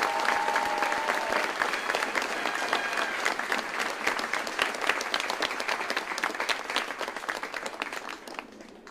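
Sustained applause from a seated audience at a U.S. Army military retirement ceremony at Fort Jackson, dense clapping steady for about nine seconds before tapering off at the end.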